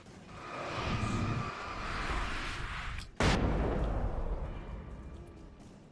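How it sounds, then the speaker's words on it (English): Flashbang grenades going off in the Alan Wake video game: a sharp, loud blast near the three-second mark punches through a dense rumbling din, followed by a sustained roaring wash. "Flashbangs are pretty effective."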